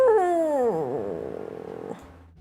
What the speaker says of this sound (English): you hear kind of a irritated growling from the cat below